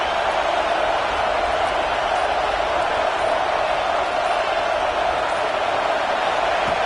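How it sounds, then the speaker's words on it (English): Football stadium crowd roars before a game, a dense, constant wash of massed voices that stays loud and unbroken throughout, with no single voice standing out. "this crowd is fired up. Listen to this noise here."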